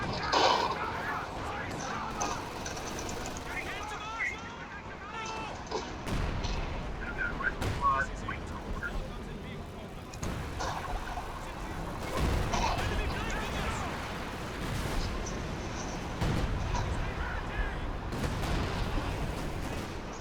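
Gunfire and artillery from Company of Heroes 2 battle, with repeated shots and heavy blasts rolling continuously throughout and shouted unit callouts mixed in over the din.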